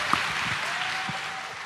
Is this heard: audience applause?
yes